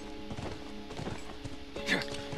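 Horse hooves clip-clop in The Last of Us video game, several distinct hoof strikes in an uneven walking rhythm at moderate volume, with a louder step near the end.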